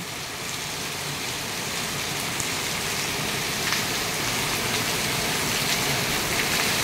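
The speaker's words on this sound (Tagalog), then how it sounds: "Malakas na pag-uulan." Heavy typhoon rain from Typhoon Karina pours down steadily and close by, a dense, unbroken hiss of drops striking surfaces with no wind gusts and no voices.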